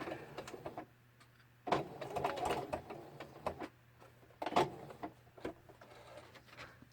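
Sewing machine stitching around lace on a craft journal, running in short stop-and-start bursts with soft mechanical ticking and rattling between runs, close and moderately loud.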